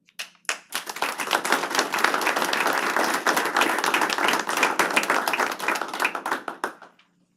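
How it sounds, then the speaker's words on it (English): A school board meeting audience applauds a Student of the Month honoree, a steady burst of many hands clapping that rises quickly, holds for several seconds, then tapers off into a few last claps, with no talking. "we can still clap for Wyatt."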